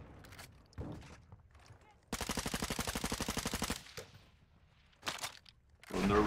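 Rapid automatic gunfire in the DMZ shooter game, a sustained burst of evenly spaced shots lasting under two seconds, surrounded by scattered single shots, footsteps and faint talk.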